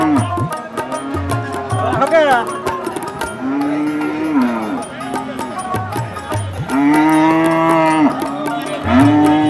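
Cattle at a busy rural cattle market in Bangladesh low repeatedly, with loud, drawn-out moos rising over a constant crowd murmur and some people talking nearby.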